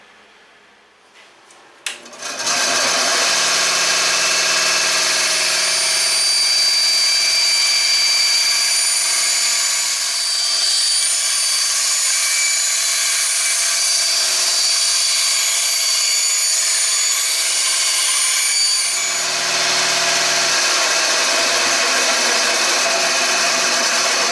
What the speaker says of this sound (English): Now it's just a matter of cutting on our lines.